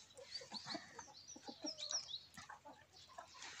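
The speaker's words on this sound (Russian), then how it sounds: "вот этот петух" Several chickens cluck and murmur in soft, irregular bursts, fairly faint and somewhat distant, with the odd higher squawk.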